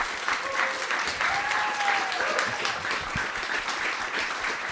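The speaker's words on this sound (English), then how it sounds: "Everyone, please give one more round of applause for Leigh." An audience at a talk on drought, predators and coexistence applauds steadily, a dense wash of clapping at moderate volume that holds for several seconds without letting up.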